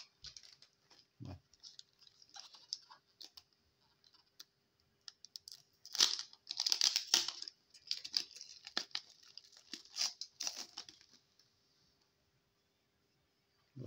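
A Pokémon card booster pack wrapper from a Sparkling Stars tri-pack is opened with gloved hands, giving intermittent close crinkles and crackling plastic rustles in bursts, growing busier midway and then going quiet.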